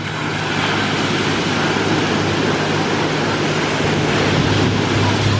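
Ocean waves breaking on a beach, a loud steady roar of surf with wind buffeting the microphone, continuous and dense throughout.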